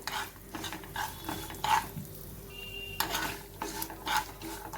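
Sesame seeds and peanuts dry-roasting in a pan, heard as intermittent scraping and stirring bursts against the metal with a faint background hiss, and no voices.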